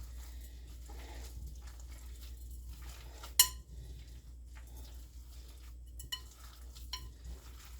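A meatball mixture of ground meat, red onion, three eggs and rice being mixed in a bowl, heard as quiet, soft shuffling broken by a sharp clink partway through and a couple of lighter knocks later.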